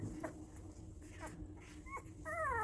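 A Bernese mountain dog puppy whimpers in several thin, high cries, a few brief yelps then a wavering whine at the end, close and fairly quiet.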